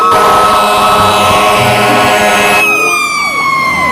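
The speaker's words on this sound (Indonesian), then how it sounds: "Wow, ada mobil pemadam kebakaran." A toy fire truck gives off a loud electronic siren with a steady wailing tone that shifts to a higher, sweeping pattern partway through, heard alone with no talking.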